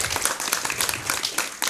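Audience applause at a Pagar Nusa Banyuwangi gathering: dense, steady clapping from a crowd for just under two seconds, fairly loud and even with no talk over it.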